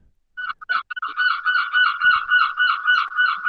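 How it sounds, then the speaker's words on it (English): Seagulls call outdoors in a quick, repeated series of harsh, nasal squawks that run steadily one after another at moderate volume, with no talking over them. "Oh, you got seagulls behind you there."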